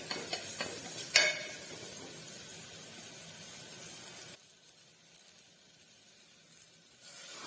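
Onion and potato sautéing in a pan for a Kerala-style kadala curry, a soft steady sizzle with a few scraping stirs early on, then quieter frying that swells again at the end.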